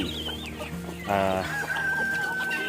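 Chickens of mixed sizes, large and small birds sharing a feeding area, cluck steadily with a brief louder squawking burst, close and continuous with no talking.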